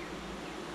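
Brief burst of continuous buzzing drone, a thick mass of honeybees humming and beating their wings up close.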